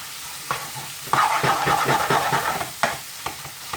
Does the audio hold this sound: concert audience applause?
no